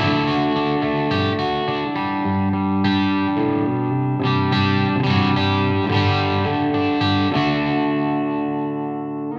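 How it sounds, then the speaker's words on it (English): An electric guitar through an ENGL Special Edition amp's clean channel with the gain boost on plays a continuous passage of chords and single notes with slight grit and ringing sustain, no voices over it. "now let's turn on the gain boost on this so you can hear"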